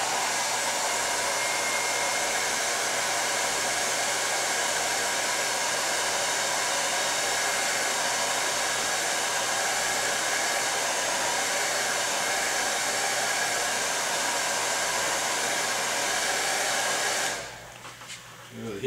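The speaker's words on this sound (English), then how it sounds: "The heat gun is taking out the wrinkle, and that's now nice and smooth." A heat gun blows a steady, loud, even hiss while shrinking out a wrinkle in the covering film on a Kadet LT-40 model plane, running alone and stopping near the end.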